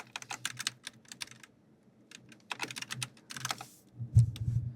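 Fingers type on a computer keyboard in quick, uneven bursts of clicking keys with short pauses between runs, close and fairly quiet.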